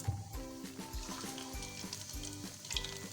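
Whole garam masala spices, cinnamon stick, bay leaf, black cardamom, black peppercorns and cumin seeds, frying in hot oil with a steady close sizzle, plus rhythmic stirring strokes and soft scraping repeating throughout.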